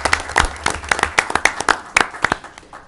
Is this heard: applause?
yes